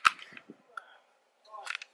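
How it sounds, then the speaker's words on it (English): Trigger assembly of a Sig Sauer P320 snapping into a subcompact conversion kit: one sharp, close, loud click, a few softer clicks and rattles, then a brief cluster of handling clicks near the end. "put our trigger inside of the subcompact conversion kit, okay, it is locked into place"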